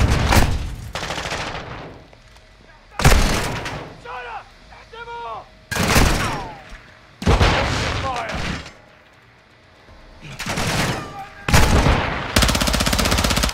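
Heavy gunfire and booming blasts erupt in loud bursts during a Call of Duty Modern Warfare 2 campaign battle, with quieter gaps between volleys and some in-game chatter.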